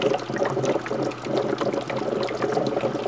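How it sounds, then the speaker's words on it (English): Water drains out of a reservoir and runs back into the bottom of a hydrogen generator cell powered from 120 V AC house current, giving a steady, close pouring and trickling wash that continues unbroken without talk. "you can see where the water is draining out of the reservoir and going back into the bottom of the generator."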